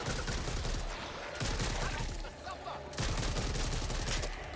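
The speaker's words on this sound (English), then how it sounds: "this shotgun is so insane" Rapid, dense bursts of shotgun fire from the zombie shooter Back 4 Blood, a near, loud barrage with a brief lull in the middle, with faint voices underneath.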